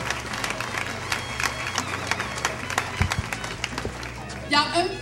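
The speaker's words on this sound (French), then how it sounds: "Il y a un petit peu de rythme dans vos applaudissements" An audience claps in a fairly steady, rhythmic pattern, the repeated hand claps blending into a dense, lively wash with a voice briefly rising over it near the end.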